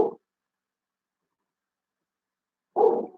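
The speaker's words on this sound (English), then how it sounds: "I'm sorry about my dog barking." A dog confined in a crate while recovering from neck surgery gives two single barks, one at the very start and one near the end, separated by silence and sounding close and muffled.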